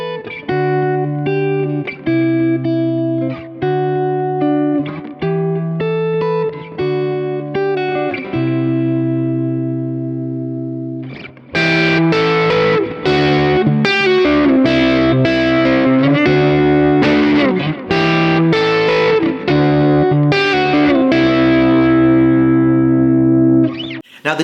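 Electric guitar on a single-coil pickup played through a Kemper profiling amp, gain raised: sustained distorted chords ring out for about ten seconds, then a busier run of brighter, crunchier strummed and picked phrases, loud and steady with no talking.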